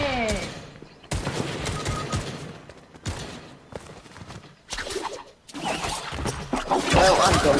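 Bursts of gunfire in the video game Fortnite, several sharp volleys separated by short gaps, moderately loud and close, with a player's voice speaking between shots.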